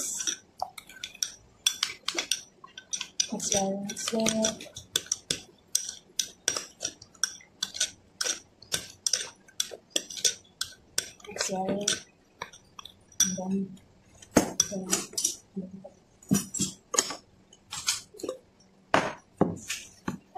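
Utensil clinks and scrapes against a bowl as seasoned chicken is mixed by hand with salt and white pepper, a steady series of close, sharp clicks and taps interspersed with bits of speech.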